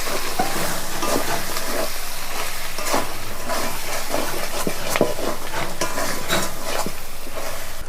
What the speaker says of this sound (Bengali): এবার আমি ভালো করে নাড়াচাড়া করে ভালো করে কষিয়ে নেবো